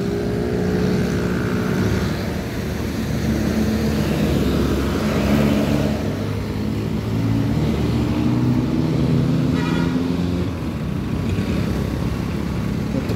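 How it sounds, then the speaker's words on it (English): Several cars pass along a sunny city street beside a gas station, a steady loud engine and tire rumble that swells and fades as vehicles go by, with no talking. "There's a few cars coming."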